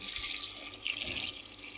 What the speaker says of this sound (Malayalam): കുറച്ച് വെള്ളം ഒഴിക്കുക